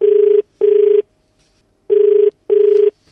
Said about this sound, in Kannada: ಫೋನ್ ಮಾಡ್ಬಿಡ್ಲಾ